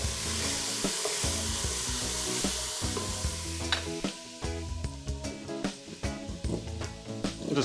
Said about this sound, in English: I hear this sizzling away.